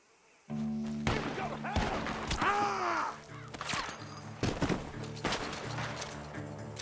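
Several sharp gunshots crack at intervals from a barn in Red Dead Redemption 2, over a continuous droning background, with a few tonal sweeps between them.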